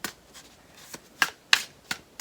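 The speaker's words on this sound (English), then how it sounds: "But I'm shuffling" Tarot cards being shuffled by hand up close, a series of crisp riffling slaps and flicks at an uneven rhythm, with no talking.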